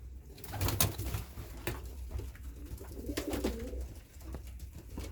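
Soft pigeon coos come from birds in a loft, a few low rolling calls fairly close amid quiet rustling and scattered knocks, with no talking.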